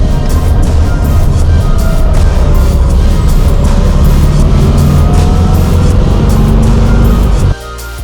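A 1952 VW Split Window Beetle drives along with a loud, rough, buzzy engine drone and chattering mechanical rhythm heard close up, holding steady before the engine note drops off sharply near the end, with no talking.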